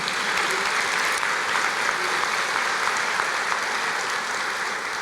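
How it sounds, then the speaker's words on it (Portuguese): A church congregation applauds during a sermon, a steady, loud, continuous wash of clapping throughout. "vamos aplaudir ao Senhor"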